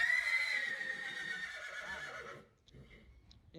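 A well-known breeding horse about 64 inches tall gives one loud, close, drawn-out whinny that fades after about two and a half seconds, followed by faint background noise.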